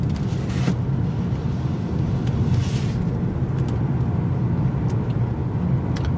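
A 2018 Hyundai Elantra GT without the sport suspension package, driving a tight turning circle on pavement, heard as a steady low engine and road rumble with wind noise, no tire squeal, and no talking.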